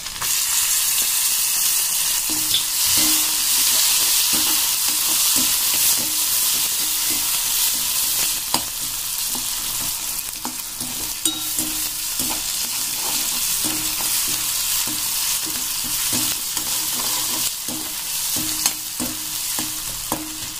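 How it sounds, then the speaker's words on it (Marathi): Finely chopped tomatoes hit browned onions in a hot pan for black chana masala, producing a loud, continuous sizzle with occasional stirring scrapes. "आता आपण जे टमाटे बारीक केले होते ते सुद्धा मी आता याच्यात ऍड करते।"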